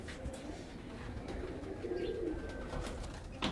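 Pigeons cooing faintly in soft, low calls over a quiet outdoor background at a rooftop loft with racing pigeons, with occasional light bird chirps.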